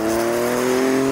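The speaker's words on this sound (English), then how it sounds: "This car is all about showcasing Ford's award-winning 3-cylinder engine." A Formula Ford EcoBoost race car with Ford's 3-cylinder EcoBoost engine drones steadily at a constant pitch, loud and close, with no voices.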